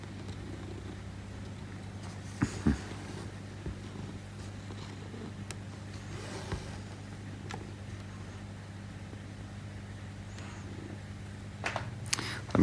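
A cat sleeping on someone's arm while they stitch purrs with a steady, low rumble that runs the whole time, close and soft, with a few faint household knocks.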